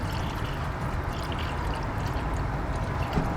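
Coolant pours in a steady, close stream into the cooling system of a classic Mini, a continuous liquid rush with a faint gurgle and no talking.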